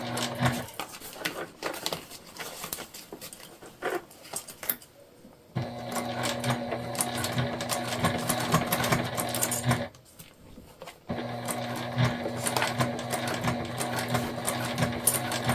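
A sewing machine stitches a crossbody bag gusset at a slow, steady pace, running in two long whirring bursts with a brief pause between them and a short quiet gap near the start.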